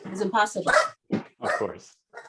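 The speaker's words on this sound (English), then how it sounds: "That's my dog in the background" A Shih Tzu barks in short bursts in the background of a room while someone speaks over it.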